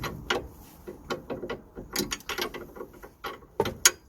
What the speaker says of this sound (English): this is a 24mm nut which we are tightening